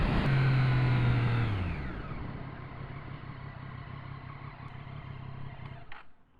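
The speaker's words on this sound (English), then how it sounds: "The bike I'm riding right now is a 2015 Triumph Daytona 675R." A 2015 Triumph Daytona 675R sportbike on a mountain loop road gives a loud, high engine whine that falls as it eases off, then settles into a steady cruising drone with wind before cutting out abruptly near the end.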